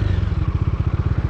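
A motorcycle on a road ride toward Mahabaleshwar, its engine chugging in a steady, rapid pulse, close and loud and running alone the whole time.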